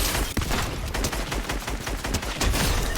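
Heavy shotgun fire from the video game Fortnite, a dense, continuous barrage of loud, overlapping blasts with no pauses and no voices.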